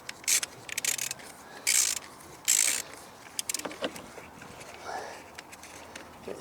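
A ratchet loosens a spark plug on a Ford C-MAX engine, giving several loud bursts of ratcheting followed by scattered softer clicks and rubbing of metal.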